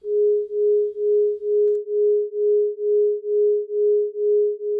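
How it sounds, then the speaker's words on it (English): Two pure sine tones a few hertz apart sound together, producing a steady rhythmic beating, a pulsing tremolo that swells and fades about twice per second, sustained and alone with no voices. "which are very close to one another, are played at the same time, there's this fluctuation in the sound, a kind of wuh, a bit of a tremolo effect."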